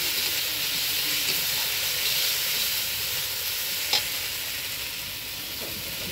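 Cumin paste sizzles in a hot pan for a barramundi fish curry, a steady close hiss with faint stirring and no talking.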